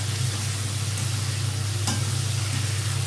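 Potatoes with tomato, green chilli and turmeric fry in a pan while being stirred. A close, steady sizzle runs under soft scraping, with no talking.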